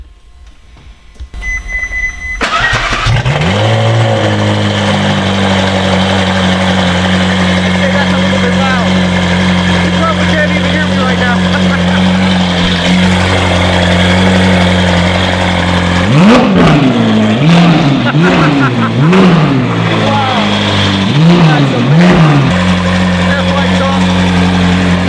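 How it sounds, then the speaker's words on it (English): A widebody Ferrari 458 with an FI exhaust fires up with a sharp crank, then settles into a loud, steady idle before a series of quick, rising revs blip up and drop back near the end. "We're gonna get a start up here. The FI exhaust Ferrari 458."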